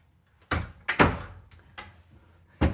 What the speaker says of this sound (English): I love that this door opens really wide so I can actually get into those things.